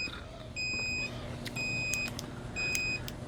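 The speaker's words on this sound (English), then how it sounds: "If you hit the turn signal, it actually shows up on the screen, it beeps." Three regular electronic beeps from a Happyrun G100 e-bike turn signal sound in a steady rhythm, each a short high tone, close and clear over a soft background hum.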